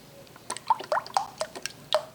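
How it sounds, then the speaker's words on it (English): Cooking oil is slowly poured over honey-coated Chex cereal for granola. Soft, close drips and liquid splatters come in a quick irregular series of small wet taps that rise and fall over a couple of seconds. "Now what I'm going to do is I'm going to add 1 cup of oil on top of all this."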